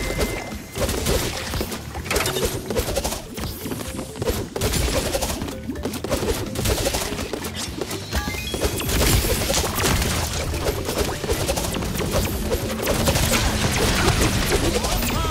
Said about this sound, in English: Ally bombardment!